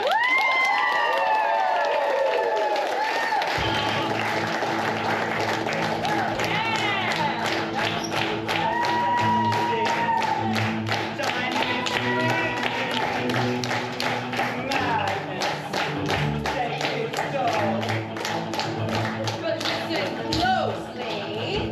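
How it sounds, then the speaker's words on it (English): Pantomime audience clapping on cue, a dense sustained patter of many hands with some cheering, running steadily for about twenty seconds beneath stage music and voices. "clap audience if you would like to see this fairy working"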